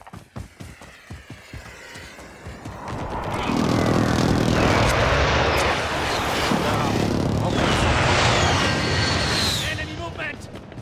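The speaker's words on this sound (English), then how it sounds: "Enemy precision airstrike inbound." A precision airstrike in a shooter game: rapid pops give way to a roaring aircraft pass and heavy rumbling explosions, loud and sustained, with a whistling streak near the end.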